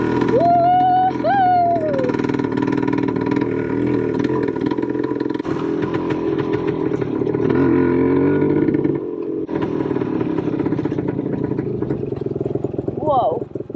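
A vintage motorcycle runs continuously as it rides off-road through a forest, its engine a steady loud drone with slight shifts in pitch, while a person whoops and talks over it.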